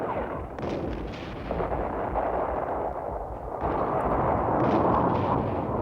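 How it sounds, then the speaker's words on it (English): Artillery shelling of Syrian strongpoints during the 1967 Six-Day War, a dense, continuous rumble of distant booms and blasts rolling together, loud and sustained. "From the rear, Israeli artillery shelled the most stubborn Syrian strongpoints with pinpoint accuracy."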